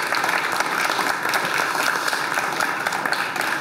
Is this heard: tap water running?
no